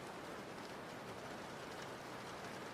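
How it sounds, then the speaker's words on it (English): Steady rain falls in a dense, even hiss of countless drops without pause, soft and constant with no voices over it. "Listen to the wonderful sounds of rain while I troubleshoot"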